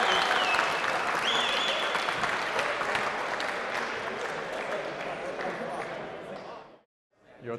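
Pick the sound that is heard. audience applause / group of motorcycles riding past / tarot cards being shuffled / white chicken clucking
audience applause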